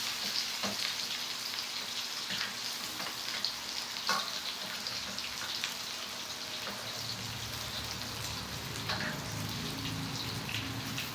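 Beef for a Filipino beef steak frying in a pan, a steady crackling sizzle throughout with faint scattered pops and a low background hum, quiet and even, no talk.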